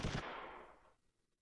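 A unit's guns fire in a war strategy video game, giving one short burst that fades out over about a second. The shot is fairly faint and has no talk over it.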